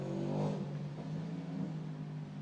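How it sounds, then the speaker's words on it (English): A car engine revs and hums steadily for a couple of seconds, loudest near the start and then holding at a constant drone. "car noises"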